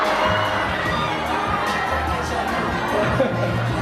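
A crowd of fans shouting and cheering at an autograph signing, with a loud, continuous wash of excited high voices and chatter filling the whole span.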